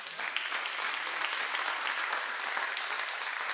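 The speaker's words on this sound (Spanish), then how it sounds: "Denle un aplauso a Jesucristo." Congregation in a church service applauding steadily, a dense, even wash of clapping that fills the whole stretch at constant loudness with no speech over it.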